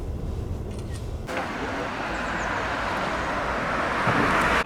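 A car drives through Copenhagen's city streets, producing a steady broadband rumble of engine and road noise that grows a little stronger partway through, with no speech.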